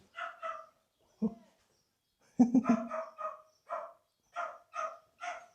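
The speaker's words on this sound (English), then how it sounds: "I don't know if you can hear the dogs, but they're still barking" Several dogs bark in short bursts, a sharp cluster in the middle followed by steady repeated barks, fairly close with quiet gaps between.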